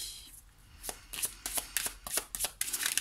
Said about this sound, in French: je vais piocher les cartes